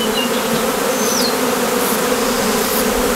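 Honeybees at a queen-rearing apiary make a loud, dense, steady buzz throughout, with individual bees whining close by now and then and no voices.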